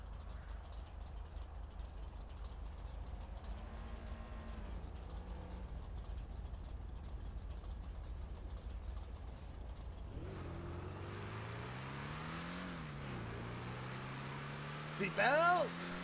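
A video game car engine idles with a low steady hum, then revs up and down in rising and falling sweeps, faint and close, as a voice talks intermittently.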